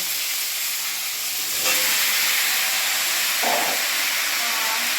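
Jackfruit fries in a pan with onion, cumin seeds and bay leaf, giving a loud, continuous hiss and sizzle. Faint clinks sound partway through.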